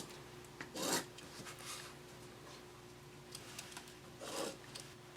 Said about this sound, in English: take my ruler and mark a 1/2 inch seam allowance all along the length of both long sides